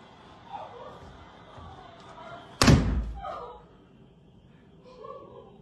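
Powerful explosion blast at a house in Mongolia, heard as a single sudden heavy boom with a rumbling tail, captured from a distance amid background chatter and voices that continue before and after.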